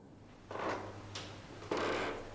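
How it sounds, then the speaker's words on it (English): A door opens or closes somewhere in a quiet hotel at night, giving a few soft, broadband knocks and scrapes spread over about two seconds against a low steady hum. "I just heard a door."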